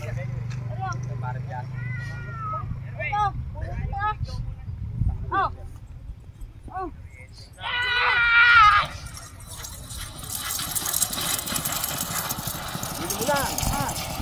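Horse hooves clip-clopping at speed during a horse race, rhythmic galloping beats running under excited commentary and crowd voices, with a brief louder burst of shouting midway.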